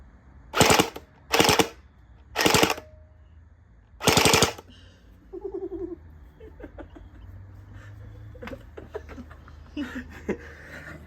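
A Splatrball SRB800 Pyro gel blaster fires four loud, sharp bursts in quick succession, each a rapid rattling volley, followed by quieter clatter and background movement.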